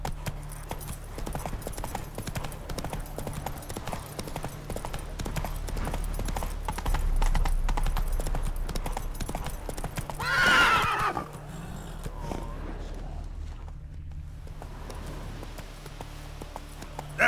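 Roach, the horse in The Witcher 3, clip-clops along at a steady trot with a continuous rhythmic hoof beat, then lets out a loud whinny near the middle before the hooves carry on.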